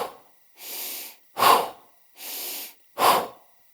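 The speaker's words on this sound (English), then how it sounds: "So stage 2 is going to be 5 power breaths in the nose and out the" Power breaths drawn in through the nose and pushed out through the mouth: two full cycles of a smooth, steady inhale followed by a sharper, forceful exhale, close and loud, with brief silences between.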